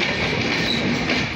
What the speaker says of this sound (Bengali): পঞ্চগড় এক্সপ্রেসের লাল সবুজে আউট করছে বর্ণমালা নিয়ে একদম সোজাসুজি ব্রডগেজ